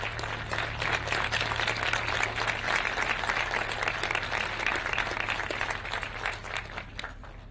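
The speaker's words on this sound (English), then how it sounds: "a round of applause as Her Excellency receives this beautiful gift" An audience at a university innovation centre launch in Nairobi claps for a gift presentation, dense sustained applause from many hands that stays loud and even before thinning near the end, with a low hum underneath.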